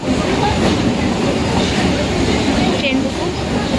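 A commuter train runs toward Sodepur with a loud, steady rumble and wheel clatter, heard from inside the carriage while voices murmur beneath it.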